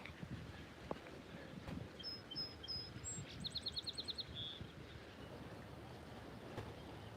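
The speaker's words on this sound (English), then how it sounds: "oh, I love this bird song." A bird sings a short series of bright repeated chirping notes ending in a quick rapid trill, faint and somewhat distant over a steady rumbling background noise.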